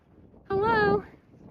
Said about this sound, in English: You silly sheep.